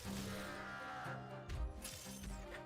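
Enemies in the video game Absolum give off distorted, sheep-like bleating and lowing calls, a few wavering cries over a steady game soundscape, moderately loud and with no talk.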